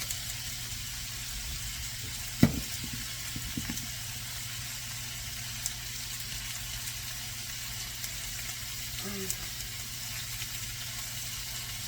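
Lamb chops fry in a pan with a continuous, even sizzle, a quiet steady hiss that runs alone throughout, broken by a couple of faint clicks.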